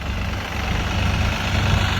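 A Massey 9500 Smart 4WD tractor runs steadily close by, its deep low engine rumble holding even and unbroken with no talking over it.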